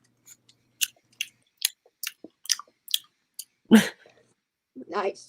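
A person imitates chewing with their mouth: a rapid run of short, close clicks and wet smacks, followed by a louder grunting burst and a brief spoken word.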